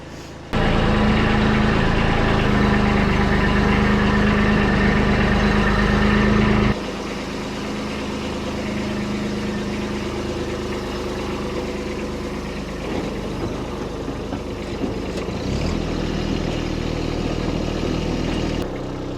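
A Kubota B2601 compact tractor with a front end loader and quick-attach snow plow runs nearby, its engine a loud steady drone that drops to a lower, rougher rumble partway through, with scraping and clanking under it.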